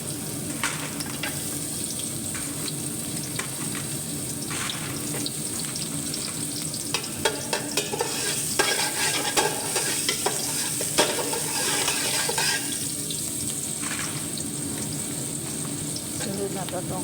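Chopped onion sizzles and fries steadily in a pan while being stirred, a continuous crackling hiss with occasional scraping, cooked as the start of brown rice with chicken.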